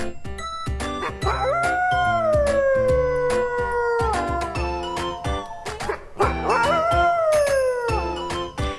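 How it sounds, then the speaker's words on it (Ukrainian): A long wolf howl rises and slowly falls, then a second howl follows, both over chiming music. "Вовк виє."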